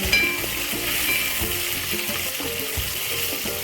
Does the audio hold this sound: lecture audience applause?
no